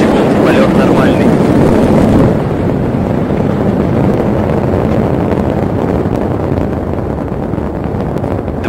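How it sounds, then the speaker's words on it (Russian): Angara-A5 heavy rocket engines launching from the Vostochny Cosmodrome make a loud, continuous broadband roar. The rumble is strongest at first, then eases slightly and holds steady with no voices. "Есть запуск двигателя ракеты-носителя."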